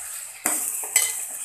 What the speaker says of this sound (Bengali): চিকেনটা যতক্ষণ ভাজা ভাজা না হবে আমি নাড়তে থাকবো,